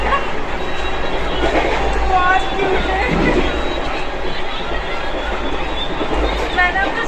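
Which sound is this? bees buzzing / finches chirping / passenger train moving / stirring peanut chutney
passenger train moving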